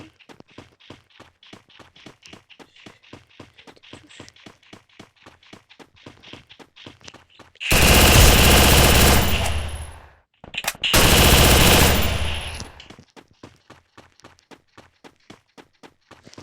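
Two loud, sustained bursts of rapid gunfire in the video game Free Fire, the first about two seconds long and the second shorter, stand out against quieter rhythmic footsteps that run throughout.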